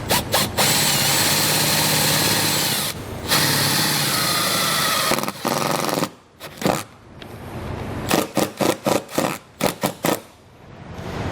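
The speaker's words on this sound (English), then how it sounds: "We're going to take the included self-tapping screw. I'm going to bolt it right to the body of the vehicle." A power drill drives a self-tapping screw into a vehicle's body while installing a Roadmaster Hy-Power diode wiring kit. It gives a loud, steady whir that pauses briefly, then ends in a string of short, stuttering bursts.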